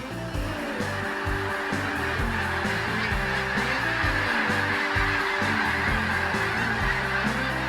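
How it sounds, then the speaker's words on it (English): A large flock of speckled belly and snow geese honks continuously during a hunt, overlapping calls layered near and far in a dense, clamorous chorus with no talk. "speckled belly and snow geese"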